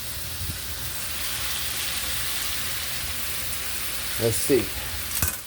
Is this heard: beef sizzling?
yes